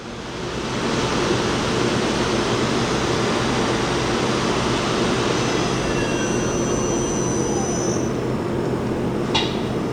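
A CNC lathe with main and sub spindles and C-axis spins its spindle up to about 3500 RPM, a loud, steady machine roar with a thin high whine climbing in pitch near the end.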